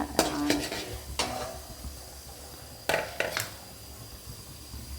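Chana dal frying in oil in a pan, stirred with a spoon: a few sharp scraping and clinking strokes against the metal, spaced out over a faint, steady sizzle.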